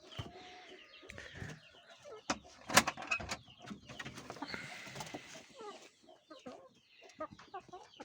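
Several chickens cluck and chatter close by in irregular bursts, with occasional sharp squawks and a sudden loud clap-like sound.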